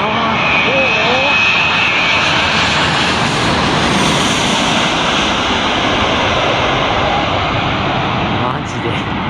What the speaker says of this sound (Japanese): 飛行機がこっちに向かって